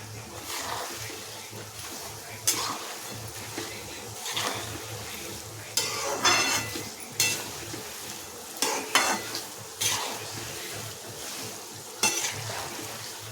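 Farsan is being stirred into peanuts roasted in oil for Kolhapuri bhadang, with a spoon scraping the pan in repeated bursts over a steady sizzle of frying, close up and without talk.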